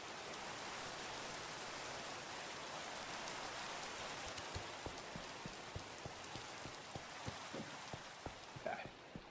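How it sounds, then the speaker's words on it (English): Steady rain in the video game Project Architect 2, a dense even hiss of falling water with scattered close raindrop ticks growing more distinct toward the end, heard alone with no talk. "maybe sleep through the night just to get rid of rain noises"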